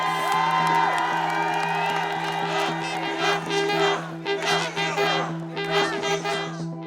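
Rally crowd at an Enough is Enough cost-of-living protest cheering and whooping in loud bursts that swell and fade, with a steady hum underneath and voices mixed in.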